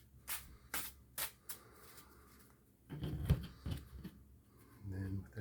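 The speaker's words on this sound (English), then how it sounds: "we're going to shuffle it." A tarot card deck is shuffled by hand in a few quick riffling bursts, soft and close, with quiet pauses between.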